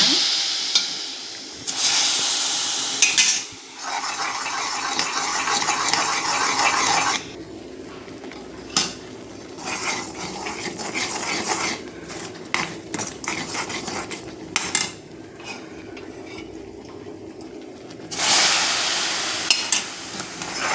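Oil is ladled little by little into a bubbling jackfruit Mysore pak mixture, which froths and sizzles in bursts between clinking, scraping stirs of the spoon against the pan.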